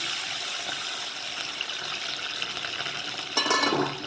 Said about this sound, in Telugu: ఇప్పుడు దీనికి తగ్గ వాటర్ పోసుకోవాలి